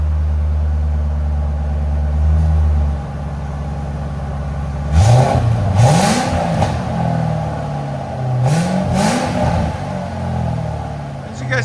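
A 2006 Ford Mustang GT with a 4.6L V8 and Valvetronic mufflers, valves closed, idles with a deep steady rumble, then rises in two throaty revs that swell and fall back, with a brief lull between them.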